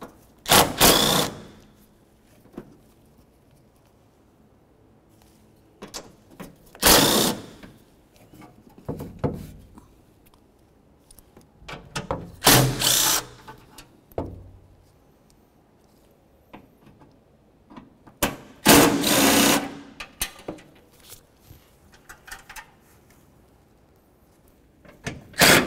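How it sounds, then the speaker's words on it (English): Bolts being removed from the lower cowl tray of a 2006-2011 Honda Civic with a power tool, several separate loud whirring bursts spaced seconds apart with quiet gaps, close up. "We'll start by removing the four bolts on each side"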